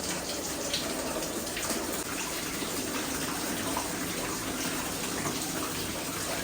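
Water runs continuously through an unflushed pub urinal that keeps overflowing, a steady broadband gush and trickle that stays even and close throughout with no break.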